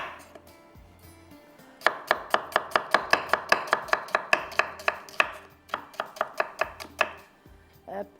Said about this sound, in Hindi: प्याज हम इसको क्या करेंगे, इस तरह से कटिंग कर लेते हैं